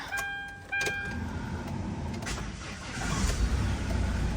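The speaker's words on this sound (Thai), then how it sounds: "เครื่องสตาร์ทง่ายเสียงนิ่มนะครับ" A 2012 Hyundai H1 2.5 manual van starts up: brief tones and a starter burst, then the engine catches and settles into a steady, close idle that swells slightly near the end.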